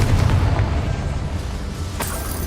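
A Confringo spell explosion in the Hogwarts Legacy video game, a loud booming blast with a deep rumbling body that decays over a couple of seconds, followed by a sharper crack near the end.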